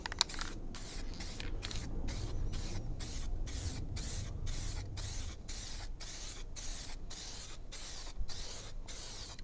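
A spray gun lays a second coat of paint on a car in repeated close, hissing bursts with brief pauses between passes, steady and without talk.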